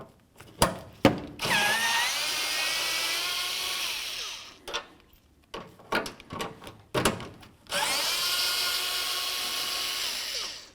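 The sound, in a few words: power tool removing headlight access bolts on Dodge Ram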